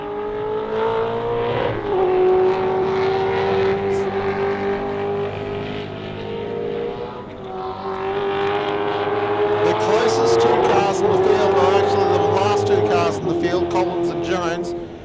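Notchback Mustang TransAm race cars in a 5-litre classics class roar past on an Australian circuit, engines loud and sustained with shifting pitch as a commentator talks over them.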